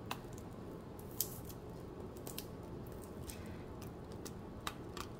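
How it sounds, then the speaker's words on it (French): Tape being peeled off a diamond painting canvas gives small, quiet crackles and ticks scattered over several seconds, close and faint, with a few sharper pops. "enlever le scotch qu'ils ont mis sur la toile"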